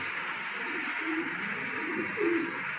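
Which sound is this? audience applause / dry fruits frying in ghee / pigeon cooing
pigeon cooing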